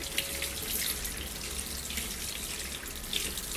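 A kitchen or utility tap runs continuously as a washing machine part is rinsed by hand after scrubbing with detergent, a steady close splashing hiss with occasional louder splashes and no voices.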